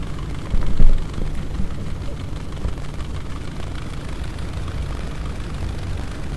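A model airplane settles onto a runway after a slip, heard as a low, rumbling engine and wind buffet with a brief louder burst early on, then a steady, moderately loud drone.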